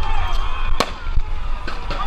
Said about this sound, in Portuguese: é tiro de bala de borracha, bomba de gás lacrimogênio e um monte de coisa.